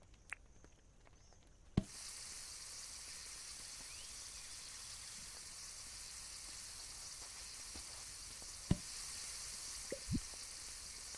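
Food cooks in Dinkum with a steady, soft sizzling hiss that starts abruptly after a click and runs on evenly, with occasional faint ticks and pops.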